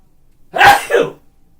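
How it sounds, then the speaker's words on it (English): A single loud, close sneeze, a sharp breathy burst with a short second push, in otherwise quiet surroundings. "That was a good sneeze."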